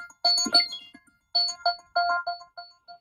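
A phone ringtone plays as a bright melodic electronic tune in short bursts with brief pauses, fairly close and clear with no talking over it.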